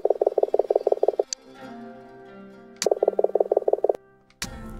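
Rhythmic bursts of croaking from a frog character in the video game Ghost of a Tale, two loud runs of rapid pulses separated by quieter ambient game sounds and a few sharp clicks, no talking.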